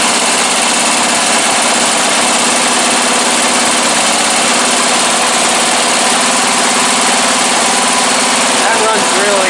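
A Briggs & Stratton 14.5 small engine runs loud and close at a steady, even idle with no backfiring, the drone unbroken throughout.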